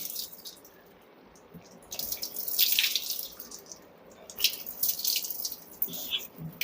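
Water poured by hand over the face during wudu ablution, splashing in uneven bursts that swell and fade, close and fairly quiet with a faint trickle between pours.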